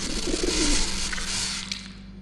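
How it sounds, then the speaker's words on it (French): A pigeon coos in the video game Observer, a soft low murmur over a steady game ambience that fades out toward the end, with no one talking. "Là, il y a un genre de pigeon là."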